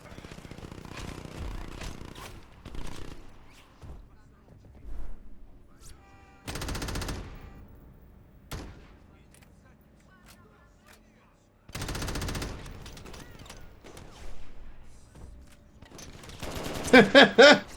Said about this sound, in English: you basically have a machine gun and you have assault rifle